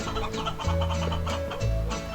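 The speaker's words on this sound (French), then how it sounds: "faut taper les poussins et les poules" Chickens and chicks cluck in the video game Guacamelee! 2, a few short clucks sounding over game music at moderate loudness.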